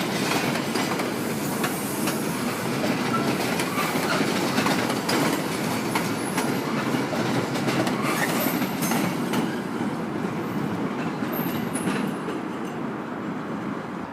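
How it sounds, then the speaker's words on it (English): Two MBTA commuter trains pull out of North Station together, a steady loud rumble of railcars with rhythmic clickety-clack and occasional high wheel squeal, continuous and close throughout with no voices. "there's two MBTA trains leaving at the same time"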